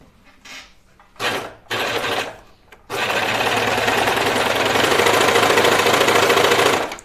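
A home sewing machine stitching a sweater seam: a few short bursts, then a long continuous loud whirring run of stitching, close up.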